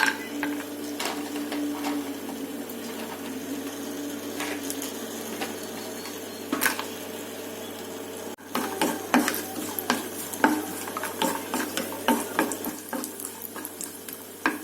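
Cashew nuts sizzle and clatter in a hot pan with fried onions while being stirred for biryani rice, a busy run of close scraping and rattling clicks, with a brief pause partway through, and no talking.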